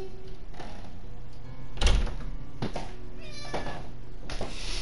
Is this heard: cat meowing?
yes